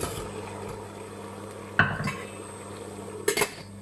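Carrots, white cabbage and broccoli go into a pot of boiling water, giving two short clattering knocks of pot and utensil over a low steady background.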